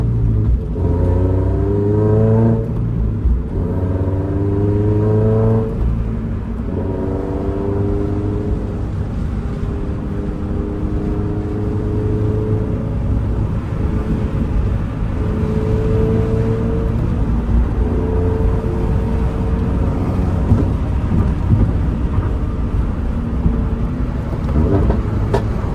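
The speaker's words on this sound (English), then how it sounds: "Little pops and burbles." A Toyota GR86 / Subaru BRZ drives past at speed, engine rumbling loudly and rising and falling through gears, with exhaust pops and burbles crackling over the steady droning road noise from inside the car.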